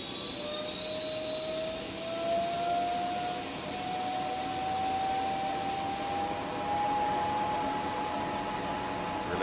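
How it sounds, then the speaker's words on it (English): A SubSonex single-seat jet from Sonex roars steadily at takeoff power, a loud continuous turbine rush with a thin whine slowly rising in pitch, heard alone without voices. "It's a jet airplane, but it's from our friends at Sonex."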